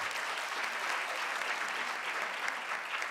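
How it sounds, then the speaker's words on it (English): A crowd at a UKZN Women's Day celebration gives a sustained round of applause, dense steady clapping filling the room for several seconds without a break. "I think they deserve another round of applause."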